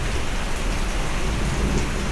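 Heavy rain pouring down in a dense, continuous roar, loud and close, with no voices over it.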